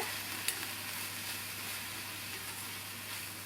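Soft sizzling and scraping from beetroot stir-fry being stirred in a hot pan with the stove just turned off, quiet and steady, with a brief clink near the start.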